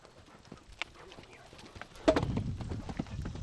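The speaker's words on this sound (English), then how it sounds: "That horse is extremely athletic." A horse's hooves clip-clop in a brief burst as it clears jump rails during a riding lesson, thudding fairly close in the second half after quieter ambient noise.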